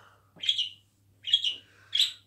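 Pet birds in a home give three short, bright chirps spaced about evenly apart, close and clear over a faint low hum, with no talking.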